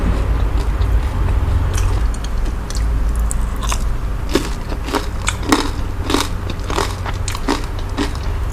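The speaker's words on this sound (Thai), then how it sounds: "ได้ยินเสียงความกรอบอะ" Crunchy bites into crispy deep-fried battered seafood and vegetables, a steady run of loud, close crackling crunches and chewing over several seconds, with no speech.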